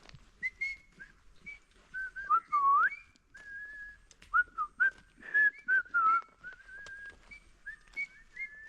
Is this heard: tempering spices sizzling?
no